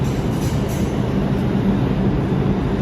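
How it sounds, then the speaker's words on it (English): A New York City subway train at a 1 train station in Manhattan, heard as a steady, continuous low rumble and rail roar that stays loud and close throughout, with no voices. "So if you want to take the Uptown 1 train, Downtown 1 train, this is where you would take it."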